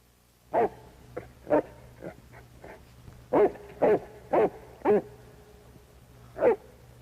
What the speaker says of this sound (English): That's not Nana's unhappy bark. That's her bark when she smells danger.